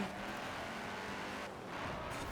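Racing car engine in a racing video game, a steady loud roar with a slight dip and recovery in pitch, with no talk over it.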